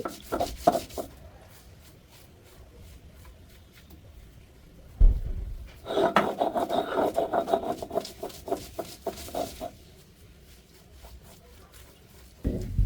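Soaked khesari lentils being ground by hand on a stone for piyaju, heard as rhythmic gritty rubbing strokes in bursts with quiet gaps between.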